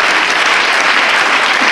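An audience at an investigative journalism event in Bologna claps loudly for the guest panel in a dense, continuous burst of applause.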